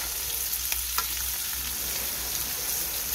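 Hen pieces fry with garlic and oregano, giving a steady, even sizzle with a couple of faint scraping stirs, moderately quiet and heard without any talking.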